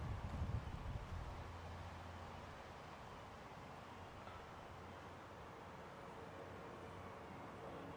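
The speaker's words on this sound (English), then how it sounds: "It's windy, woo." Wind blowing outdoors across a lawn, a steady low rushing with buffeting against the microphone that is strongest at the start and then settles into a constant, fairly faint roar without talk.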